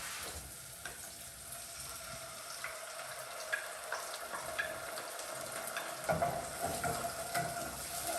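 Tomato passata poured into a pan of fried onion, giving a steady close sizzle with small crackles that grows busier and louder toward the end.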